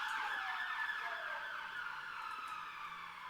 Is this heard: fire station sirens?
yes